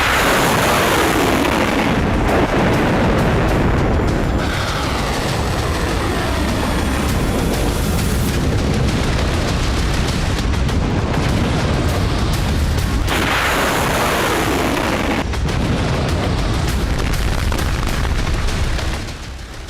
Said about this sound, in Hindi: रूस की राजधानी मॉस्को में अचानक एक कार में धमाका होता है